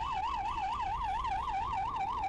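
Ambulance hooter on the road, a loud wavering siren sweeping rhythmically up and down in rapid cycles, steady and close with faint road noise beneath and no talk.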